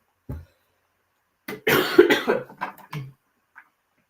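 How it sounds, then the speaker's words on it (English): A few close, harsh coughs from a person with bronchitis, a short single one followed by a rougher cluster, with quiet gaps between. "Sorry if you hear me coughing a little bit"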